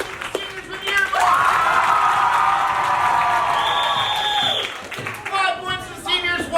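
A student audience at a seniors-versus-alumni school match bursts into clapping and loud cheering for the seniors, with a prolonged yell and whoops over the applause, then scattered voices as it fades.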